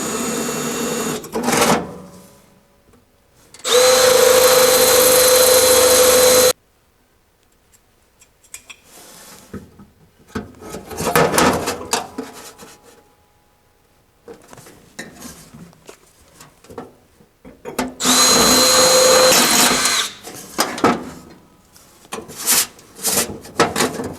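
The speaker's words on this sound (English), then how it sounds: "let me put some holes in this." Power drill boring holes into a Tahoe truck chassis during an International build, two loud sustained drilling bursts separated by quieter clanking and handling of metal parts.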